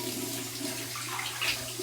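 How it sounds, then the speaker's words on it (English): Warm water runs steadily from a bathroom tap as a face is rinsed after a wet shave with shaving soap, a continuous close splashing flow with no voices. "here's my warm water rinse right now"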